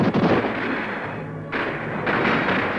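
Musket volley in a colonial-era battle scene with redcoats at a rail fence, a loud sustained roar of close gunfire with a brief lull before the blasts resume.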